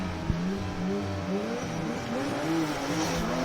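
Drift cars at Formula Drift Japan Ebisu in the Top 32, engines droning and revving continuously with wavering pitch and tire squeal mixed in, fairly distant and steady throughout.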